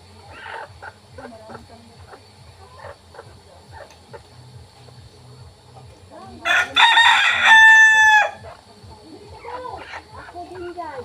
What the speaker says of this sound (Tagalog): Yung mga tandan? Ayun, mayroon dyan.